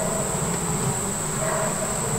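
Honeybees in an open horizontal hive hum in a dense, continuous drone, close and steady throughout with no voices.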